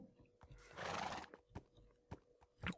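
A horse in the Minecraft video game gives a loud, broad whinny lasting about half a second, followed by scattered short hoof clops and snorts, with no talking.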